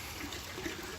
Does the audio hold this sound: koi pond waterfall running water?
yes